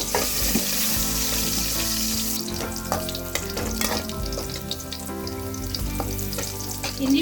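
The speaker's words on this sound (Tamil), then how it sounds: "எண்ணெய் நல்லா சூடான உடனே இஞ்சி பூண்டு," Ginger and garlic frying in hot oil in a wide pan, a steady bright sizzle with stirring clatter and scraping throughout, close and prominent.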